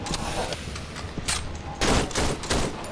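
Shotgun blasts in the horror game Cry of Fear, several loud bursts in irregular succession, the last ones heaviest, over a low ambient bed.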